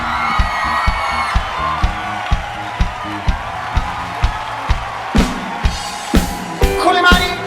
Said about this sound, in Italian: Fatevelo un applauso.